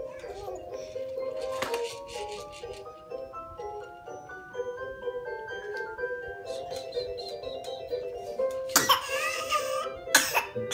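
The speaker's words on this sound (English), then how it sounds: "Coughing all on your own, sweetie." A baby girl gives a couple of short coughs near the end, heard close over a toy's plinking electronic melody that plays throughout.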